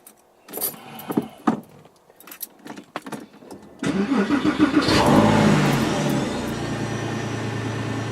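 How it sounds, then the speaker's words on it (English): Keys jangle and a few clicks, then a Porsche 911 996 C4 engine cranks and catches, settling into a loud, steady idle close by. "I'm just going to start it up now"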